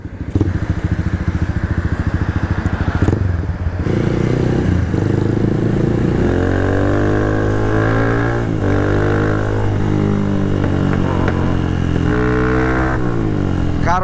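A Bajaj Pulsar 220 supermoto motorcycle with a single-cylinder engine and Nibi PE30 carburetor idles loud and close right after starting, its throb steady with occasional blips of revving.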